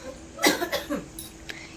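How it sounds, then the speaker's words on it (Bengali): A person coughs several times in quick succession, close and fairly loud, followed by a brief throat sound. "আমারও কাশি হচ্ছে তো"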